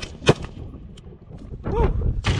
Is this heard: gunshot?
yes